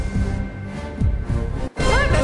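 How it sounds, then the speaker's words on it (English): The Terminator sound effect from the Greed game show, a jumble of crashing, sweeping electronic effects with a sudden dropout and then swirling warbling tones, loud and busy. "But that's the sound of the Terminator."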